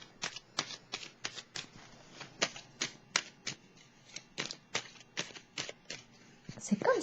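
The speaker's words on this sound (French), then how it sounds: "Je vais déposer une carte ici." Tarot cards laid down and handled during a reading, giving a steady series of crisp paper taps and slaps spaced roughly every half second, close and clear, with no voice over them.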